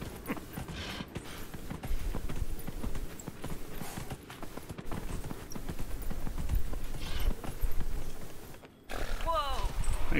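Horse hooves clip-clopping in the video game Dragon Age Inquisition, a steady rhythmic trot of hoofbeats over ambient game sound, with someone talking over it and a brief pause near the end.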